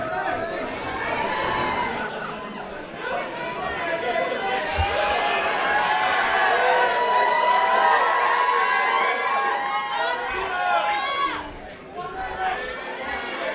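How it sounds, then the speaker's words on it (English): Packed independent wrestling show crowd cheering loudly and continuously, a dense roar of shouting voices that swells for most of the stretch before briefly dipping near the end. "You ever heard the crowd this loud?"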